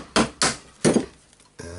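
A hammer taps on a stainless steel part while a Hilti TE905-AVR breaker is being taken apart: three sharp, close metallic knocks in an uneven rhythm, then a fainter ringing tone at the end.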